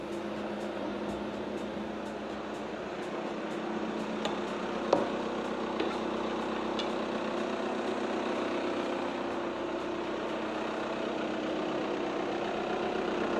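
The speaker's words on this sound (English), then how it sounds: "and then start the engine" An Audi car engine runs at a steady idle after starting, a low continuous rumble with a few faint clicks, close by and without speech.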